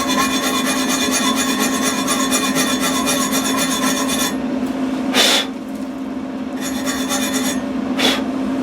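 Slag being scraped and wire-brushed off a flux-core weld from a 120V gasless welder, a steady rasping scrub for about four seconds, then a few short separate scraping strokes, close and loud with no talk.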